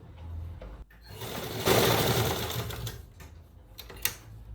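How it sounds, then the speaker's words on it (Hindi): A sewing machine stitches a seam on a pair of ladies' pants in one short, close burst of rapid stitching, with a few light clicks before and after. "चलिए मशीन पे अब कैसे करते हैं। यहाँ से सिलाई लगाना शुरू करेंगे"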